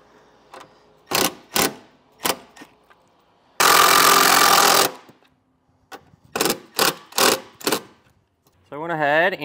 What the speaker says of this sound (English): I'm going to do that with a couple of self-tapping screws.